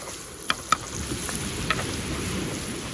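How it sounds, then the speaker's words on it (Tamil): Tomatoes and onions fry in oil for a dry fish curry, making a soft, steady sizzle with a few sharp clicks from stirring, quiet and close. "நல்ல எண்ணெயிலேயே நல்லா வதங்கணும் அப்போ தான் நம்மளுக்கு கருவா நம்ம கருவாட்டு குழம்பு கொஞ்சம் கட்டியே கிடைக்கும்"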